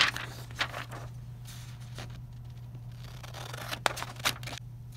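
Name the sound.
scissors cutting out a paper cat's head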